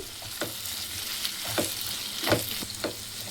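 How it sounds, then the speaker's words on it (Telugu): Coconut and tomato fry in a pan for a vegetable kofta curry gravy, a steady close sizzle with periodic crackles and stirring scrapes, no voices. "ఈ కొబ్బరి టమాటా అంతా వేగింది కదా"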